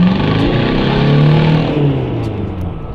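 A car with traction control off revs hard during a burnout, the engine note rising and falling as the wheels spin on slush, loud and close throughout.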